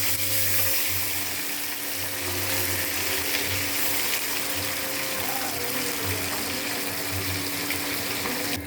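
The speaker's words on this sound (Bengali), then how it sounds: "মাছগুলো ভাজা হয়ে গেছে" Fresh, evenly sized parshe fish frying in oil in a pan, a continuous close sizzle with a low steady hum underneath, and no voices.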